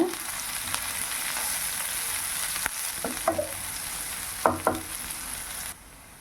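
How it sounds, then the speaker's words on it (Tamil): Shallots and green chillies sauté in hot oil, a steady close sizzle broken by several sharp scraping stirs of a spatula in the pan before the sound drops away near the end. "சின்ன வெங்காயமும் பச்சை மிளகாவும் சேர்த்துருவாங்க. எண்ணெய் நல்லா காஞ்சிருச்சு. நல்லா வதக்கி விடுங்க."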